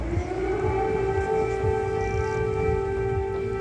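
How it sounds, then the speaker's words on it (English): Air raid sirens sound over Kyiv as a steady, sustained wail, unbroken and carrying at a fair distance, with a low rumble of background noise beneath. "Air raid sirens sounded, but the Kremlin had been informed."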